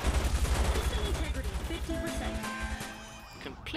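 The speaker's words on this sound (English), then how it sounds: "Fuck you shooting at me." Rapid bursts of automatic gunfire from the video game Watch Dogs, loud and rhythmic at first, thinning into scattered shots and game effects later, with someone shouting over it.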